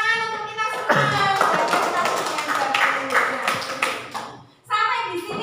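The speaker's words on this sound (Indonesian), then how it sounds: "tepuk tangan untuk kita semua" Schoolchildren clapping together in a classroom, a brisk burst of hand claps running for several seconds under talk and children's voices before a brief pause.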